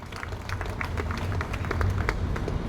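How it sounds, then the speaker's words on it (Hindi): Audience applause at a commemoration ceremony for Raja Jailal Singh, a steady wash of many hands clapping at moderate volume, continuous throughout without a break. "जोरदार तालियों से स्वागत किया जाए"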